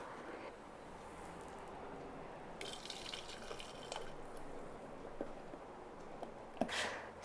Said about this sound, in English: So now all we have to do is pour our mixture into the ice cream maker.